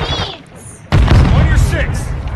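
A frag grenade detonates in a first-person shooter video game, one loud sudden boom after a quieter stretch, followed by a rumbling tail with game voices and effects over it.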